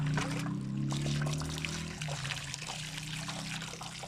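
Water pours and trickles steadily at close range over a circuit board being washed, with a low hum underneath and no talking.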